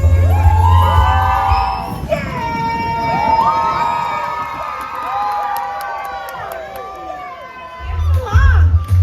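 A crowd at Disneyland's Beach Party Blast screams and cheers, with children's shrill yells and whoops rising over a steady din, surging loudest at the start and again near the end.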